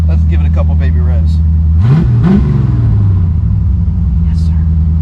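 1984 Chevy C4 Corvette barn find getting a couple of quick throttle blips, two short rising rev surges over a loud rumbling idle, with someone talking before and briefly after.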